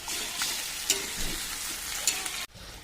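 Water, chopped tomato and a few garlic cloves go into meat frying in a pan, giving a loud steady sizzle with a couple of sharp clinks, which then drops off abruptly near the end.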